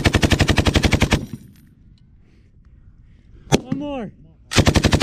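Machine gun firing in rapid bursts during an infantry fire support exercise, loud and close, one sustained burst at the start and another at the end with a brief shout in between.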